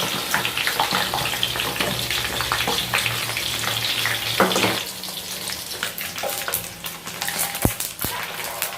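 Anchovies (dilis) fry in cooking oil with a loud, dense sizzle that turns briefly quieter and thinner partway through, broken by scraping stirs and a few sharp knocks against the pan.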